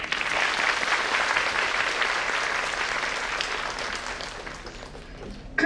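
A poetry recital audience gives a round of applause for the stage crew, dense clapping that holds strong, then gradually thins and fades out near the end.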